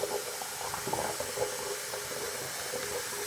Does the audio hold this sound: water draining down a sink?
yes